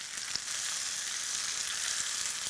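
Scallions sauté in a pan with a soft, steady, even sizzle, close but fairly quiet, and a few faint stirring taps. Nobody speaks.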